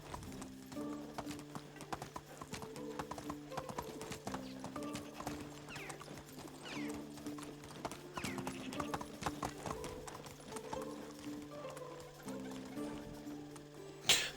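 Horse hooves clip-clopping in a steady rhythm while riding in the Medieval Dynasty video game, with an occasional whinny and light creaks under quiet game ambience.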